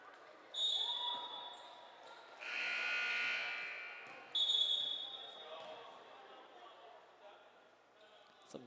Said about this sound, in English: the buzzer sounded during the inbound